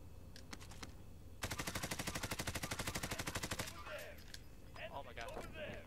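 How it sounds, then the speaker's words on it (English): Rapid automatic gunfire in Warzone, a steady burst of about two dozen evenly spaced shots lasting a couple of seconds, loud and close, followed by quieter scattered clatter and faint voices talking. "I shot him through the wall, bro"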